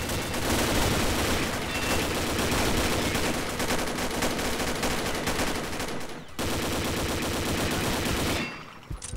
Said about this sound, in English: Why does he have enough ammo to shoot at me?